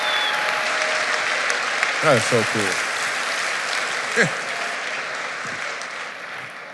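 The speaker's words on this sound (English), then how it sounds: "Give him a round of applause." Live podcast show audience gives a round of applause, a steady bed of clapping running throughout while hosts talk loudly over it close to the mic.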